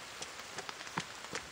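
Rain falls steadily in a video game, a soft continuous hiss with scattered brief patter accents, moderately quiet and alone without talk.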